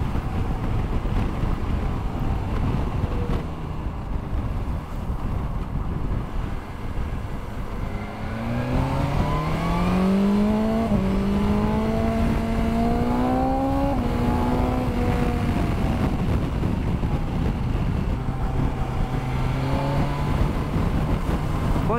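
A 2021 BMW S1000XR motorcycle engine idles, then revs up through rising and falling pitches before settling back, with wind noise throughout and nobody speaking.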